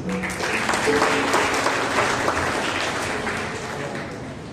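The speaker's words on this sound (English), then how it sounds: "Let's clap for her, please." Congregation applause at a New Year prayer fellowship gathering: dense, continuous clapping from many people at moderate loudness, fading slightly toward the end, with faint voices underneath.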